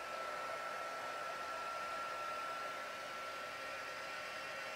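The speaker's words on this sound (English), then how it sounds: "I like to start my heat gun just hold in one place until I see it working." A heat gun held in one spot for heat embossing blows with a steady, even whoosh and a faint high whine, quiet and continuous throughout, with no one talking.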